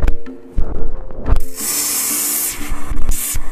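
An espresso machine's steam wand hisses loudly against espresso grinder parts, a strong continuous spray of steam after a few clattering handling noises, with brief pulses near the end.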